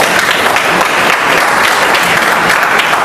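Dense, even audience applause fills a hall at a business motivational event, continuous loud clapping from many hands with no pauses.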